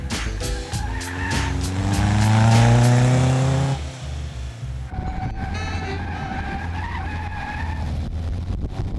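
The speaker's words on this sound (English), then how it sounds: "Very, very difficult to keep the car in the direction you want it to go. Just keeps spinning out all the time." A Caterham race car skids and spins out on track, its tires squealing in a long, loud rising-and-falling screech over a revving engine, then the engine drones on at a steadier pitch as the car recovers.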